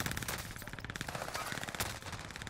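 A PPSh submachine gun fires rapid, rattling bursts in the Warzone video game on Fortune's Keep. The crackle is fairly quiet and close, with a few louder cracks between fast strings of shots.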